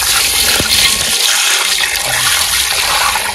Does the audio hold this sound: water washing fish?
yes